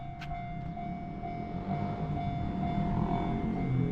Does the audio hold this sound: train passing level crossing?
yes